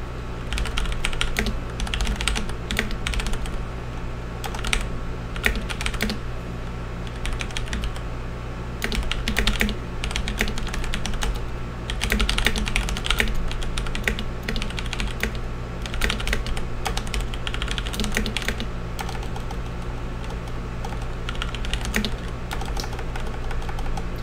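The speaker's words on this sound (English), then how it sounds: "Typing on the second monitor is really weird because there's like a delay." Steady typing on a computer keyboard, rapid clattering keystrokes in uneven bursts that run continuously for the whole stretch, close and fairly loud against a low hum.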